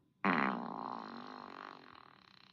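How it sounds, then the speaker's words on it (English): A smart speaker plays a fart sound effect: one loud, abrupt blast that starts sharply and trails off over about two seconds, alone with no talking. "Hey Google, make a fart sound. This is a fart."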